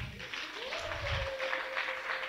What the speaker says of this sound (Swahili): Pigie Yesu makofi zaidi